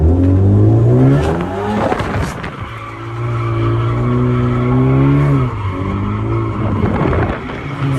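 An automatic car drifting with the steering wheel at full lock under throttle, engine droning loud and close while the tires squeal and skid in long sustained bursts.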